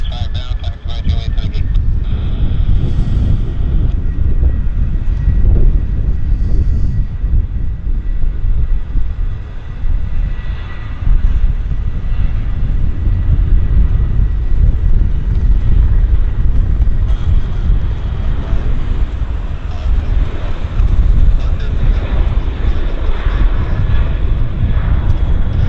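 An airplane rolling for takeoff at Vancouver Airport gives off a sustained, loud jet engine roar that fills the whole stretch, while voices talk over it.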